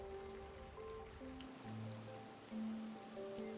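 Steady rain falls in a video game, a constant hiss of drops under a sustained tonal music bed whose notes shift slowly.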